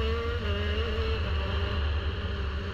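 Go-kart engine on the South Garda Karting track in wet conditions, a loud continuous buzzing drone with a pitch that rises and wavers as it accelerates, close and alone.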